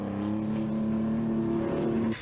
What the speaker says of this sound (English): Billy Coleman goes through, but the car is sounding rough.